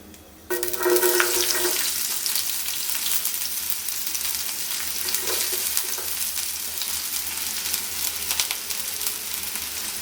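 Small shallots sizzle and fry steadily in hot oil with cinnamon bark and cloves, a bright continuous crackle that starts abruptly as they hit the pan and stays close and loud throughout, with no talking.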